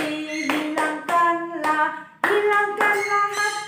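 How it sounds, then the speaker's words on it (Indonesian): Children at an Indonesian church Sunday school class clap their hands in rhythmic bursts along with a sung praise song, a bright tonal melody carrying over the repeated claps. "Tepuk tangan,"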